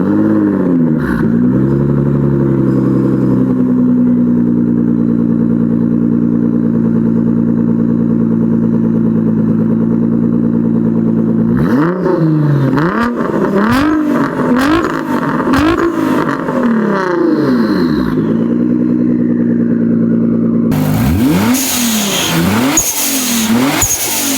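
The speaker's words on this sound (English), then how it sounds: "let's go ahead and start the car up and give you guys some standing exhaust revs" A Nissan GT-R's twin-turbo VR38 V6 with aftermarket exhaust starts and settles into a loud idle, then is blipped through repeated sharp standing revs that rise and fall, ending in a harder sustained rev, close and with no talking.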